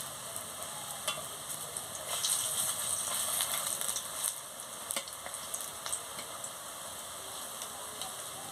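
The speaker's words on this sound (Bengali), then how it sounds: "লাল লাল করে ভাজা হয়ে গেছে আমি তুলে নিচ্ছি" Drumstick flower fritters coated in gram flour frying in oil, a continuous close sizzle and crackle with occasional utensil taps and scrapes as they are lifted out.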